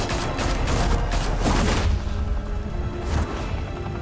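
Heavy gunfire from the Batman: The Telltale Series video game crackles in a dense, continuous volley with booming bursts, loud and close throughout.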